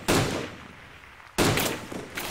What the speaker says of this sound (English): Another one shooting me.